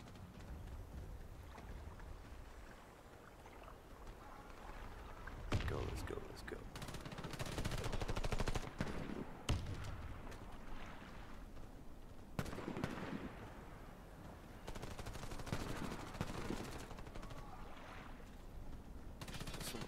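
Gunfire in the Warface video game on a dock map comes in repeated bursts of rapid shots over steady background wind and water noise, rising and falling across the stretch.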